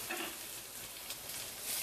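Finely chopped onions sautéing in about two spoons of oil in a pan, a soft continuous sizzle, faint and brief with no voices.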